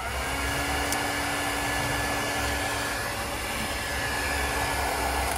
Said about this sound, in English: the distance traveled by the toy car with the presence of air resistance from the hairdryer